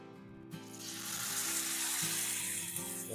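A ribeye steak hits a hot Blackstone griddle, bursting into a loud, steady broadband sizzle that swells and holds close up.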